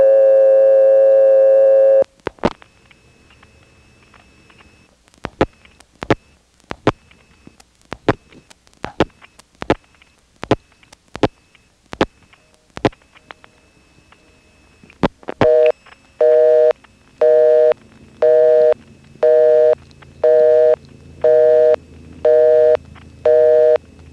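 Carolina Telephone line from 1977 in Wilson, North Carolina: a steady tone, then a run of sharp clicks and pulses over faint trunk hiss, followed by a loud interrupted busy signal beeping in even on-off bursts.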